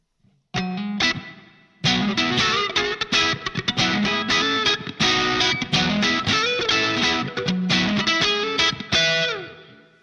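Distorted electric guitar through a Line 6 Pod HD500 modeling a Vox AC30 amplifier, demonstrating its bias control: a brief opening note, then continuous crunchy strumming of chords and riffs with short gaps.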